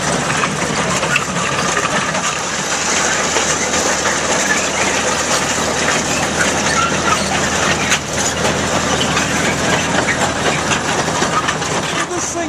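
A gasoline-powered Lombard log hauler engine runs steadily and loud, a continuous rumbling drone that stays close and constant throughout, with no clear talk over it.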